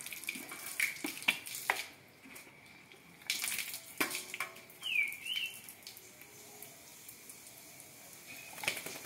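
Tap water splashes in irregular bursts, loud at moments and then easing off, with a few sharp bird chirps and tweets breaking in over the running water.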